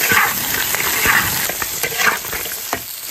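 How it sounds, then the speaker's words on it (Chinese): Ginger and dried chilies stir-fried in hot oil in a wok, with a steady loud sizzle throughout and a spatula scraping and tossing at a regular pace, close up with no voices. "翻炒一会儿，倒入火锅底料，"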